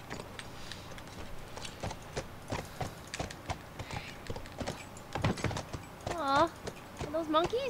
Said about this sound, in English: I have to get on the horse for this part.